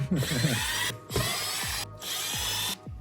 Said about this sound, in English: Just take these screws out and we can just pop it off from there